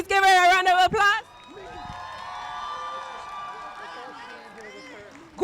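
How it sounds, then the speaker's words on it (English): A May Day rally crowd in Chicago cheers and applauds. A loud whoop opens, then a sustained mix of distant cheering, whistles and clapping. "Everybody please give her a round of applause."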